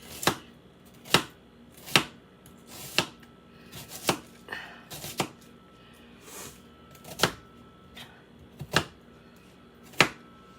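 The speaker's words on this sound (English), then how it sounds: "come teach me how to chop up an onion" A knife chops an onion on a cutting board in a kitchen, a slow, uneven series of about a dozen crisp, close taps without talking.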